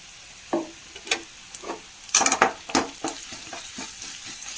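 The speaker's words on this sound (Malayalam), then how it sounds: "ഉള്ളി ഒരുവിധം മൂപ്പായിട്ടുണ്ട് നമുക്കതിലേക്ക് മുളക് പൊടി ഇട്ട് കൊടുക്കാം" Sliced onions with a spoon and a half of chili powder fry in a pan, a steady sizzle broken by scraping stir strokes and spoon taps against the pan, close up, with no talking.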